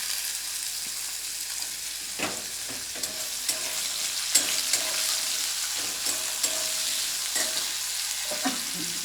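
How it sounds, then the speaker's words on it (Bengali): Small chopped carrot pieces fry with ginger in a pan for a spicy pitha dish, a steady hissing sizzle with occasional scraping knocks of the stirring spoon, close and alone. "গাজরগুলো যাতে তাড়াতাড়ি ভাজা হয়ে যায়"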